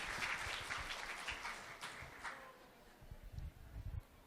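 Audience at a seminar clapping, a faint, steady patter of many hands that thins toward the end, with scattered louder claps.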